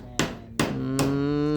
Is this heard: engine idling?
no